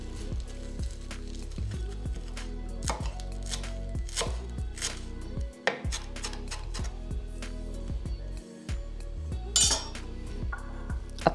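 A bunch of parsley finely chopped with a knife on a board, rapid close repeated knocks in an irregular rhythm, with a couple of brief pauses.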